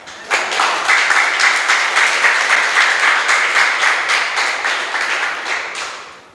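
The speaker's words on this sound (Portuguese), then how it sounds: "Aplauda Ele, irmão" A church congregation bursts into brisk, steady applause, individual claps distinct within the full sound, holding strong for several seconds before tapering off at the close.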